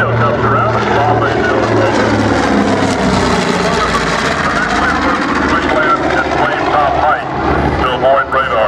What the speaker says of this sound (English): As our B-25 and Tito comes around